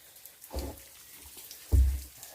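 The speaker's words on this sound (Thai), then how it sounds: "นี่ก็ น้ำหยดนะครับ" Water drips inside a cave during the rainy season, two separate soft drops landing about a second apart, the second a little heavier, over a faint, hollow background.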